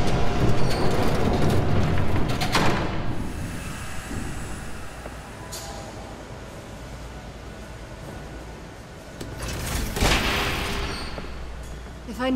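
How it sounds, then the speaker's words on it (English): A train rumbling past in the Telltale Batman video game, a loud broad roar that swells early, eases through the middle, then surges again near the end. "There's a train coming."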